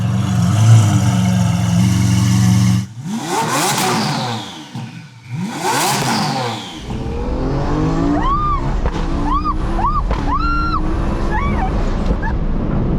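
Twin-turbo Lamborghini Huracan STO with a single-clutch gearbox under hard throttle: loud engine roar rising through two quick sweeping surges, then a sharp, rapid run of rising and falling revs. No talk.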